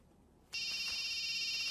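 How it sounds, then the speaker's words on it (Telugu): A phone ringtone starts abruptly and keeps ringing as a steady, loud electronic trill alone, with no talking over it. "Hello, phone ఎత్తానాలమ్మా."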